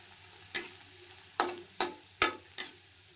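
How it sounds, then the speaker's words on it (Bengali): Rice-flour fritters, made from sun-dried rice flour, dropped into hot oil, giving five sharp sizzling bursts spaced irregularly over a quiet background, each bloom of frying swelling quickly then fading. "এই যে দেখুন দেওয়ার সঙ্গে দেখুন কত সুন্দর ফুলে উঠতেছে তেলে।"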